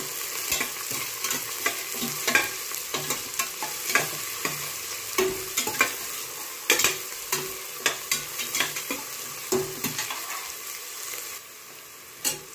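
Onion and green chilli fry in a pan for vegetable pulao, a steady close sizzle broken by frequent sharp scrapes and taps of a spoon stirring, easing off briefly near the end.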